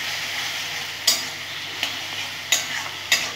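Onions and chicken sizzle steadily in a hot pan while a spoon scrapes and stirs them, giving four sharp clinks at irregular intervals over the constant frying hiss.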